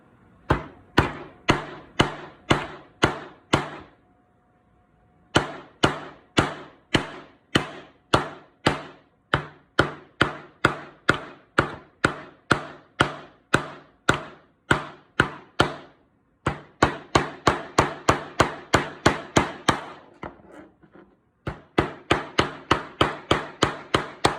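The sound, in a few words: hammering nails into wood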